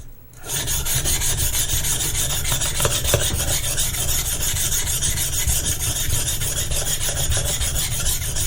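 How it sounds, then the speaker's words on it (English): Knife blade sharpened with heavy pressure on a Baryonyx American Mutt sharpening stone, a loud continuous rasping grind at close range, steady and unbroken as the edge is worked across the stone. "you can quickly see all the swarf that's being built up on this stone. It is cutting quite fast."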